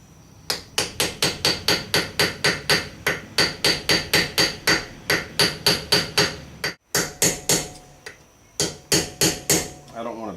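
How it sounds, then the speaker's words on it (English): Steady, ringing hammer strikes land on top of a metal cap, roughly three blows a second and close up. There is one short pause, then a few more blows. "I don't want to beat the top of that cap into oblivion"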